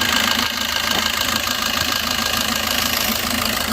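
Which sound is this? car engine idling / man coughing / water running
car engine idling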